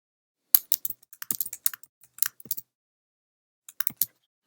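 Rapid computer keyboard typing in short bursts with a pause, close and crisp, while entering and pasting HTML heading code; no talking.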